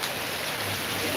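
Steady, dense rain hissing close by without letup, a soft continuous wash of drops falling on surfaces.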